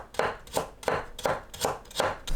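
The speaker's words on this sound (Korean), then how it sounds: "당근을 곱게 채 썰어줍니다." A knife finely julienning carrot on a cutting board, six quick evenly spaced chops in a steady rhythm, close and fairly quiet.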